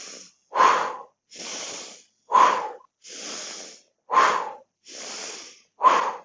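Deep inhaling breaths during a somatic exercise session, four long, airy breaths spaced evenly between quieter exhales, close and clear with no talking.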